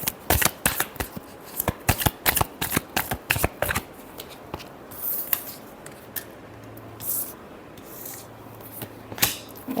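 Tarot cards are shuffled by hand in quick crisp riffling bursts, close and clear, then softer slides and taps with a faint hum underneath.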